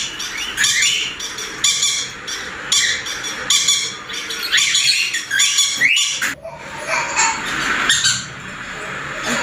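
Pet birds at a bird shop in Guntur squawk and chirp loudly and continuously, many calls overlapping close by with no talk.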